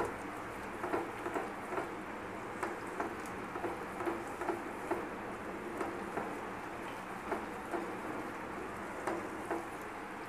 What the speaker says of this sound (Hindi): अब इसमें अपना गरम मसाला ऐड कर देंगे, इसे अच्छी तरीके से मिक्स करके भून लेंगे 2 मिनट तक इसे भी।